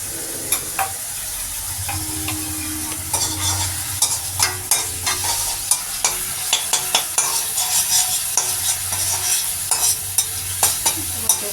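Ground spice paste with Kashmiri chilli powder sizzling in a hot pan while a spoon scrapes and stirs in a quick, steady rhythm of clinks, fairly loud and close.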